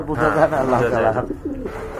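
Soft, throaty cooing of a pigeon up close, a couple of low warbling calls over faint background noise.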